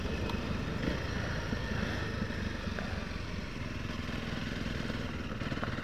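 Honda CRF 300 L and BMW F 650 enduro motorcycles ride along a gravel track, their engines a steady, close, rumbling drone with faint clatter and no gaps.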